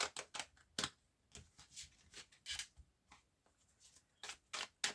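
A tarot deck is cut and shuffled by hand, giving a series of short, crisp card riffles and slaps in irregular bursts, close and fairly quiet with no talking.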